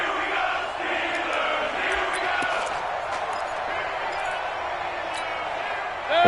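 A stadium crowd in a Madden football game roars steadily in the background, a broad, moderately loud cheer with occasional sharp thuds and squeaks, swelling slightly at the very end.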